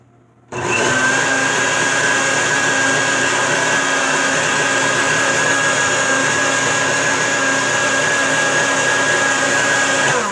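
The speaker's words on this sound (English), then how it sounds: "blend this together" A blender whirs a spirulina herbal drink, starting abruptly after a short pause and then running as a loud, steady, high-pitched motor whine with churning liquid for about ten seconds, close by and alone.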